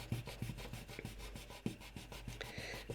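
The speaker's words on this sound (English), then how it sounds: "So I'll just rub those out now we've done a thinking." A pencil eraser scrubbing back and forth across paper on a music theory worksheet, a quick, steady rhythmic rubbing, close and fairly quiet, with no talk.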